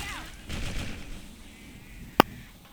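Video game gunfire, mostly soft distant bursts under a low background, capped by one sharp, loud shot near the end.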